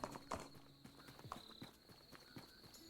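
Horse hooves clip-clop at a steady walking pace in a tavern-themed game scene, with sharp repeated knocks over a faint steady tone and light background clatter, no talk.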